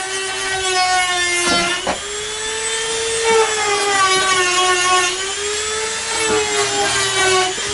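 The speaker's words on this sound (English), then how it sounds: "Now we're going to sand it down." A Dremel-style rotary tool sands the edges of a hole cut in a roof for solar wiring, its high whine steady and close with pitch dips as it bites into the material.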